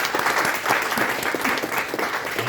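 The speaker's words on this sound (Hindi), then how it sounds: "आप सबको तालियां बजानी चाहिए अपने" An audience applauds at a literary talk session on the magic of words, producing steady, dense clapping that fills the whole stretch with no voices over it.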